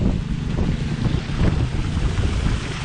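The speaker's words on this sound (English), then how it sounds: "So we got the Harbor Freight 2-inch pump going." A Harbor Freight 2-inch water pump running outdoors, a steady, loud low engine drone mixed with rushing water and wind buffeting the microphone, with no talk.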